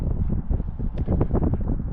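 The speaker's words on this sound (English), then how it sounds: "it's pretty windy out" Gusty wind at about 19 mph buffets a microphone outdoors on a cold Michigan day at an RC jet flying field, a steady, loud rumbling roar with fluctuating gusts and no voices.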